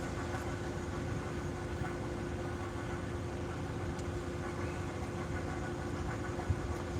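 A steady, rough-running car engine overdue for an oil change idles continuously, with a low, uneven clunking rumble like a diesel that never lets up.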